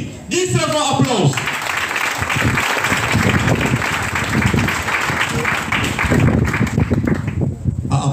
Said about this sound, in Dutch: Geef ze een applaus.